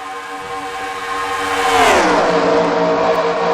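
A race car zooms past in a racing video game, a rising engine whine that swells loud and then drops in pitch as it passes, with no talk over it.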